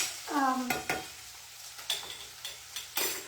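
Onions, cooked until slightly soft and almost transparent, sizzle in a pan, with a few sharp scraping stirs spaced through the short stretch.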